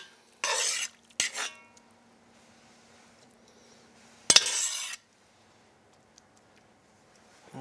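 Cooked squash is scooped with a skimmer into a serving dish, giving brief scraping and clinking bursts of utensil against dish, separated by quiet pauses.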